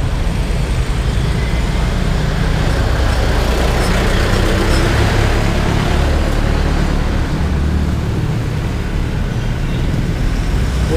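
A Rusi Sigma 250 motorcycle idling close by, heard at its exhaust: a loud, dense, steady engine rumble that runs on without a break, with no talk over it.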